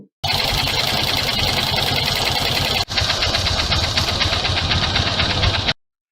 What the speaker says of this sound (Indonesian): biasanya tuh bunyi kayak tik tik tik tik ketika mesin dijalankan